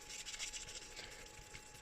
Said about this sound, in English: Like I said, no pressure, just light scrubbing.